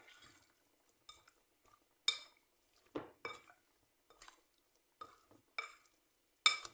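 Chicken wings being tossed in a bowl to coat them make faint, scattered clinks and soft scraping knocks at uneven intervals, with quiet gaps in between.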